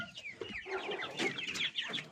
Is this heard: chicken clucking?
yes